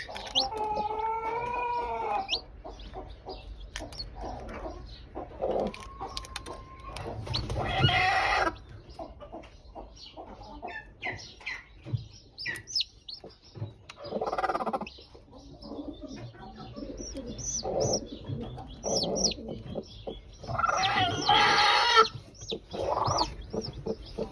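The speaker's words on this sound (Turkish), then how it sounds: "Mavi yumurtamızdan çıkan civcivimiz." A newly hatched Gurk chicken chick peeps in thin, high chirps, repeated irregularly over soft background noise and occasional rustling.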